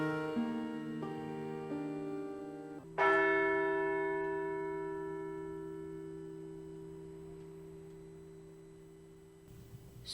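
A deep church bell tolls one o'clock in a dramatised Christmas ghost story, sounding a single loud, resonant stroke whose long harmonic hum fades slowly, preceded by softer chiming tones and with no voices.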